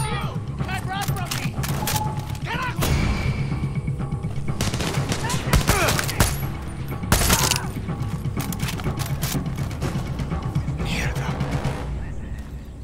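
Gunfire in the Far Cry 6 video game, with dense, loud bursts of rapid automatic fire and single sharp shots continuing nearly without pause over a busy combat background.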